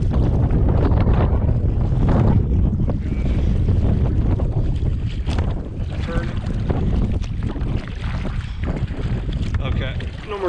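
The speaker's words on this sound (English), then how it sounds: "Okay, that wind hit me. Oh my gosh, that was really strong." Strong gusts on big open water batter the microphone of a canoe with a constant loud roar. Faint lapping of water comes through, and a person speaks under the rumble.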